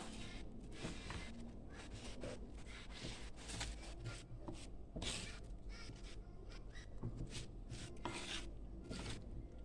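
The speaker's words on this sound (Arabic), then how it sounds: "وهنا يعني غنحرك كل شيء، المكونات يعني كامله" Tagine ingredients with a spoonful of oil being stirred in a pot, giving a steady close scraping and rubbing with repeated sharp clacks of the utensil against the pot, no talk.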